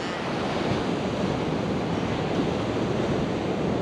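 Waves wash steadily onto Gillam's Beach on Research Bay in Far South Tasmania, a continuous close roar of surf mixed with wind buffeting the microphone, with no voices.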